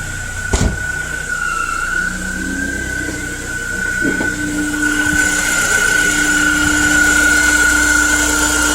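Secondary air injection pump running on a 1998 BMW Z3 1.9L, a loud steady whine with a sustained tonal hum that grows slightly in level, heard up close under the open hood with a few thumps early on.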